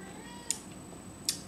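A cat meows softly indoors, faint and somewhat distant, with a couple of brief sharp clicks in an otherwise quiet room.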